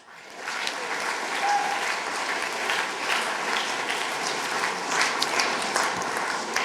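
An audience at the Oxford Union breaks into sustained applause, a dense, even wash of many hands clapping that rises quickly and holds loud throughout.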